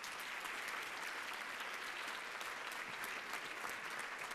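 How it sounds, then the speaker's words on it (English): An audience at an event gives a round of applause, a thick, steady roar of many hands clapping at an even level throughout, with no speech on top. "I want to give him a round of applause."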